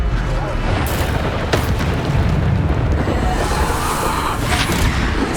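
Bombarda spells explode in Hogwarts Legacy combat, giving sharp booming bursts near 0.8, 1.5 and 4.5 seconds over a constant rumbling battle din.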